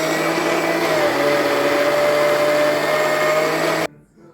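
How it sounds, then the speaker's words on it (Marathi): A kitchen mixer grinder whirs loudly and steadily with a high motor whine while churning milk cream to make ghee, running for almost four seconds before cutting off abruptly. "परत मिक्सर चालू करायचं आहे आपल्याला आता"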